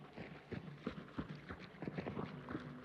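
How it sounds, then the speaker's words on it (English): Footsteps in the multiplayer shooter Hunt: Showdown, a run of soft, evenly spaced thuds close by, like an enemy moving nearby, with quiet ambience in the gaps. "I can hear footsteps."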